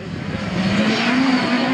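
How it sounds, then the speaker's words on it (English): A race car drives past at a UK autocross round at Ludlow, its engine note rising steadily as it passes nearby, loud and continuous with no talk over it. "As Melton 51 motors on then."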